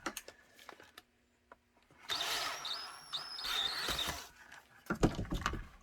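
A power drill whirs in a couple of short high-pitched bursts after some clicks and handling noises, close by and fairly quiet.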